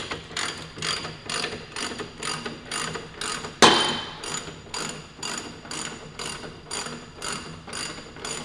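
A half-inch ratchet working a 22 mm axle nut during rear wheel removal on a Yamaha R3 motorcycle, close rhythmic clicking in even strokes about twice a second, with one sharp metallic clank midway.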